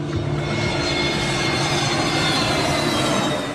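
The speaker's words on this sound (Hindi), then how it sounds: "सुबह 8:10 मुंबई के हवाई अड्डे से विमान रनवे पर दौड़ता हुआ उड़ान भरता है।" A passenger plane at Mumbai airport races down the runway for takeoff, its engines producing a loud, steady, close roar throughout.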